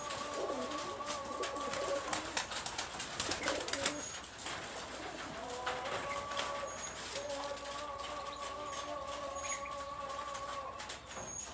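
Getibaj pigeons cooing in soft repeated phrases close by, with light rustling and background noise throughout.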